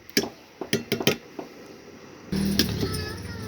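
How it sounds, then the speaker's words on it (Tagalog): A spoon stirring creamy sago and saba banana in a pot clinks sharply against the metal several times in an uneven rhythm. A steady low simmering rumble follows. "Haluin natin"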